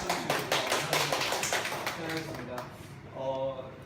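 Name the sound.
audience applause for the teacher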